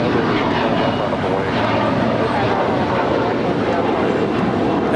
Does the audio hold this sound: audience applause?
no